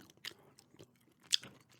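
Gum is chewed close to the mic, with a few soft, moist smacks and one sharper crunchy snap, unhurried and quiet with gaps between.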